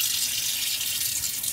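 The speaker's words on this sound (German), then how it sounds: "Dann irgendeinen Hahn öffnen." Water runs steadily from an opened tap in a camper's water system with the pump switched off, a close, continuous hissing flow with no talking.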